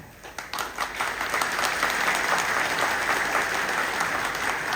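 An audience bursts into loud, sustained applause at a Hindi-language speech, the clapping swelling quickly and holding steady as a dense crowd roar without any talk.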